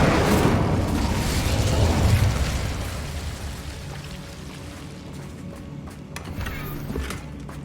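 Fiery Confringo and Incendio spell blasts in Hogwarts Legacy, a loud booming burst that rumbles and then fades into a lingering crackle, with a faint later pop near the end.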